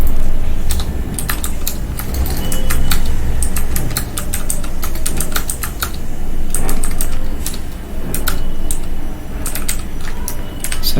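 Steady keyboard typing fills the clip, a dense run of quick clicking keystrokes on a computer keyboard while text is entered into a Chrome browser, close and fairly loud over a low background hum.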